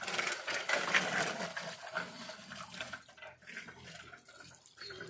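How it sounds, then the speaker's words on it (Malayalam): Water poured slowly into a lotus pot, a steady close splashing and trickling that stays continuous and fairly loud, tapering slightly toward the end with no talk. "അപ്പോൾ നമ്മൾ വെള്ളം ഒഴിക്കാൻ പോവുകയാണ്."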